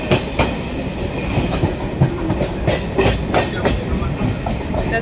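A train running into Prinsep Ghat station in Kolkata after crossing the Second Hooghly Bridge, with steady rumbling and rhythmic clickety-clack of wheels over rail joints, fairly loud and continuous.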